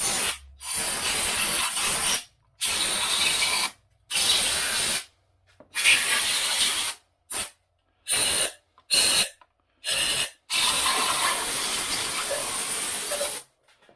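Bursts of compressed air hiss from a blow gun around the passenger valve cover of a Jeep JKU 3.6 engine, about a dozen short blasts of varying length separated by silent gaps.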